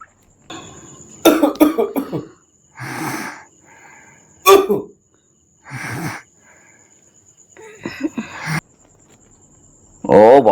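A person gives a series of separate, loud, harsh coughs spaced a second or two apart, with fainter throaty bursts between them, over a faint constant insect whine.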